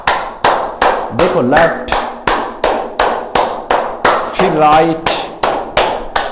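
Loud, close hand clapping performed as a clapping therapy exercise, about two sharp claps per second in an even rhythm, with a person talking briefly over the claps.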